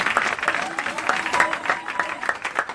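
A church congregation at a French-language crusade service applauding together, dense rapid clapping with a crowd murmur throughout, loud and steady over a few seconds.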